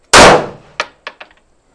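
A single loud pistol shot at a shooting range, with a sharp blast and a long decaying tail, then several quieter echoes or distant range shots trailing off over the next second.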